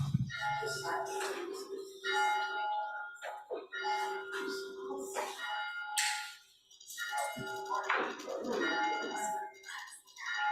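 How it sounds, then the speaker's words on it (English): A church bell rings to open a Sunday service at Unity of Kanawha Valley, several resonant strikes spaced a couple of seconds apart, each ringing out with a long shimmering decay, fairly clear and uninterrupted. "We will begin our service with the ringing of the bell"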